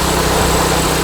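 A small garden tiller's gasoline engine idles at low speed, a loud, steady, close-up putter with a fast even rhythm and no pauses.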